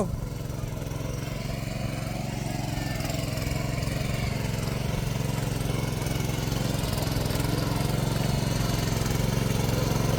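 A tractor engine drones steadily while working a muddy farm field in Konkan, a loud, continuous mid-pitched rumble that holds without a break throughout.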